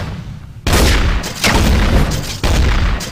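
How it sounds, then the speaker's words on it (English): A flashbang grenade goes off in Counter-Strike: Source, with loud broadband bursts starting after a quiet lead-in and a couple of repeated blasts or ringing swells following close and full. "You throw the flash at us."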